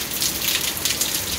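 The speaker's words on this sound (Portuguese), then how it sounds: "Muita chuva aqui, ó," Heavy rain pours down in late afternoon in Joaquim Gomes, Alagoas, a dense, loud, continuous hiss of drops hitting surfaces, close and unbroken, with no talking.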